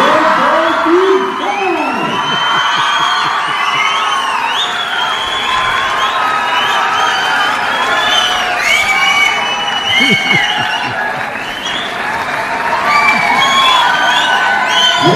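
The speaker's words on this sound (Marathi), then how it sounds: "पुढचे 30 सेकंद या सभागृहामध्ये भरपूर टाळ्या शिट्ट्या वाजल्या" An audience in a hall at a school farewell ceremony whoops, cheers and whistles loudly, a sustained roar of shouting voices with scattered clapping throughout.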